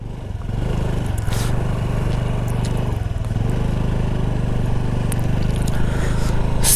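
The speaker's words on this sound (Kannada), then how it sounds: "ಸೊ ಗಾಡಿ ಸ್ಟಾರ್ಟ್ ಆಗಿದೆ, ಸೌಂಡ್ ಕೇಳಿಸ್ಕೋಬೋದು ನೀವು." A 110cc (109.51cc) motorcycle engine idles steadily after starting, a close, even low throb that runs on unbroken with no voices.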